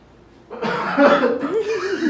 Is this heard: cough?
yes